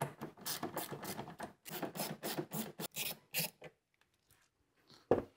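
Ratchet loosening 8 mm bolts inside a Mini Cooper, a quick run of close, rapid ratcheting clicks for about three seconds, then near silence with a couple of faint handling noises and a single knock.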